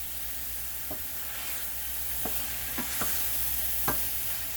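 Vegetables and spices are tossed in a hot frying pan, with a steady low sizzle broken by a few sharp scrapes and clacks of stirring, close up and with no talking.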